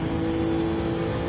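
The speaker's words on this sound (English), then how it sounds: "The Lexus sounding mighty." A Lexus race car engine in a racing video game revs hard near the limit with a loud, steady whine, heard up close.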